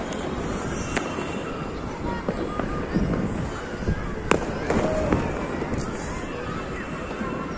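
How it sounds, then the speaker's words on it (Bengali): New Year fireworks over Dhaka, heard from a raised spot as a continuous rumble of distant bursts with sharper nearby cracks scattered throughout and faint crowd noise underneath. "আমাদের এখানে সবচেয়ে বেশি আতশবাজি ফুটানো হয় কমলাপুরের দিকে"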